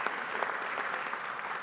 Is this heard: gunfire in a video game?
no